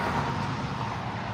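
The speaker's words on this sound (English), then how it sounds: "And now you guys can probably hear those cars passing by." Steady roar of car traffic passing on a nearby turnpike, continuous and fairly loud, with no distinct individual passes and no talking.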